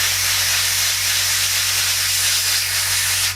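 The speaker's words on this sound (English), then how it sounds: "all the angles, and you spray, okay, and there we have our wheel hub done" White spray paint hisses from a can onto a wheel hub in a steady, loud continuous burst that cuts off at the end, over a low hum.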